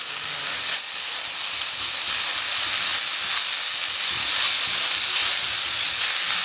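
Cabbage hitting a hot pan with spiced oil for a tomato and ash gourd curry, giving a steady, loud broadband sizzle and hiss that runs unbroken throughout, with no talking.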